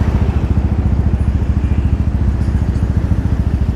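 Loud motorcycle exhaust drones steadily and close while riding through Tokyo, a dense pulsing engine note with no voices over it.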